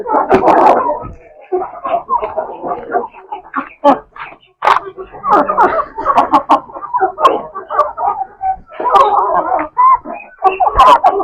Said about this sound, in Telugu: ఫస్ట్ బాక్స్ లో కూడా తినేస్తున్నాయి కోళ్ళు.